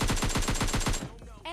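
Rapid automatic gunfire in the mobile shooter PUBG Mobile Lite, a burst of about ten evenly spaced loud shots that stops abruptly and leaves a short, quieter tail.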